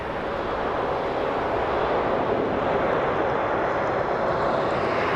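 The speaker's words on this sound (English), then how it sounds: "Quite a long way down the runway for touchdown." A Boeing Dreamliner airliner touches down on the runway at Dublin Airport, giving a broad, steady engine roar heard from a distance, continuous and unbroken.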